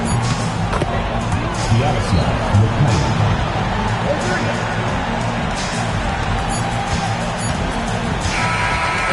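An arena crowd roars and cheers steadily at the end of a basketball game, a dense, loud din of voices and scattered shoe squeaks and thuds, with commentators talking over it.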